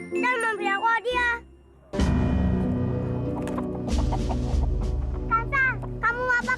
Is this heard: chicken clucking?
yes